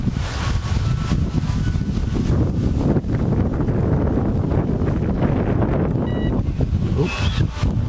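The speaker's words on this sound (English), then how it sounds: "Pretty windy" Strong wind buffets the microphone in a constant low roar, gusting throughout with no pause.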